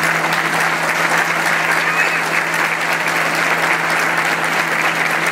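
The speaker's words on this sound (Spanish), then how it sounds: "Vamos a recibir con un fuerte aplauso" Loud, sustained applause from a large crowd at a municipal government report event, steady clapping without a break for several seconds.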